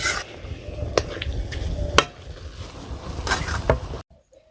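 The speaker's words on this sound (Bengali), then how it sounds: "দেশি লাউ শাক ভাজি করে বানছি" Bottle gourd greens and beans are fried in a home kitchen in a village, with continuous sizzling and several sharp clinks and scrapes of a utensil against the pan before the sound cuts off abruptly.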